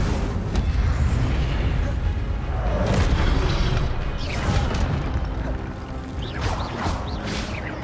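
Incendio fire spell cast in the video game Hogwarts Legacy, a loud booming magical burst with crackling bright flares, layered over continuous combat noise with a voice present throughout.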